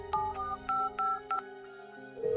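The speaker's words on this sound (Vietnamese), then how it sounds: "Cuối cùng tôi chỉ có thể gọi số điện thoại của bạn trai." A phone number is dialed on a telephone keypad, a quick run of five distinct dual-tone key beeps in an uneven rhythm, clear and close, with a faint tone starting at the end.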